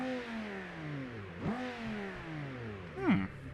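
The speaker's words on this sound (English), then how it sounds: "I've never played with this engine, but this thing sounds like a Viper" A video game car engine, resembling a Viper, revs in rising and falling sweeps with two sharp blips, moderately quiet and unaccompanied by talk.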